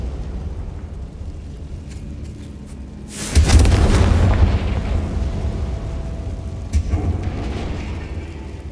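Bombarda and Confringo spells blasting in Hogwarts Legacy: one loud, broad explosion erupts and rumbles for about a second before decaying, followed by a smaller burst later, over a steady low game ambience.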